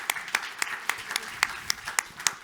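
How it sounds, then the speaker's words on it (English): An audience at a regional conference applauds panel speakers after a session, a rhythmic, fairly close clapping with distinct individual claps standing out over a softer bed of applause. "with big applause to all speakers"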